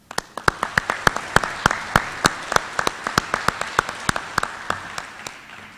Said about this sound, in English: Please join me in another round of applause for our Board of Directors.